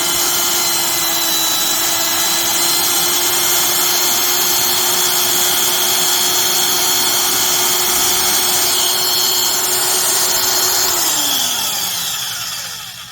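A Hitachi 16-gauge (1.5mm) electric metal nibbler, freshly greased, runs continuously with a harsh, buzzing mechanical whine, steady and loud, then winds down near the end.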